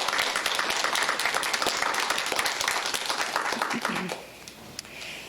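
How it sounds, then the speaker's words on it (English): A round of applause for the judges at a 2021 4-H public speaking contest: dense, steady clapping from an audience that thins and stops after about four seconds, leaving a quiet room. "Let's give our judges a round of applause."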